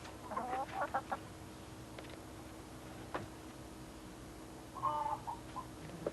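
Hens clucking in short bursts near the start and again near the end, with faint background noise between.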